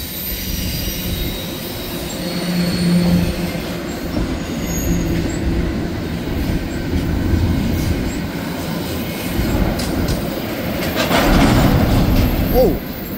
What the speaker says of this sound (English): With four locomotives on this train.